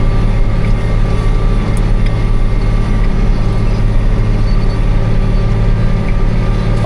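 Tractor engine pulling hard up a steep, short hill during corn planting, a loud, steady low drone with a constant heavy rumble throughout and no talking.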